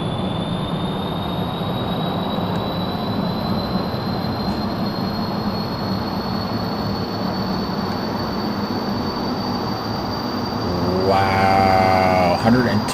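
Rocket engines roar steadily in Kerbal Space Program as a single-stage craft accelerates down the runway, a dense continuous rumble with a high whine. Near the end a burst of rhythmic rattling joins in and the noise swells louder.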